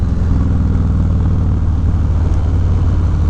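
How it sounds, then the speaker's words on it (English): Harley-Davidson Low Rider S motorcycle in third gear leaning hard through a tight corner, its engine a steady, loud, close low-pitched rumble with a throbbing pulse throughout and no scraping. "So we'll turn the bike, lean it over, real aggressive, no scrape."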